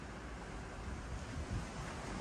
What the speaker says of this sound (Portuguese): O mar super agitado. Olha a força dos ventos.